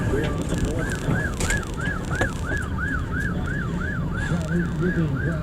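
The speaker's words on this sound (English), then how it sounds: "We're being drowned out by the sirens" Emergency vehicle sirens wail on a New York street, a rapid repeating up-down yelp loud and continuous over rumbling traffic and street noise.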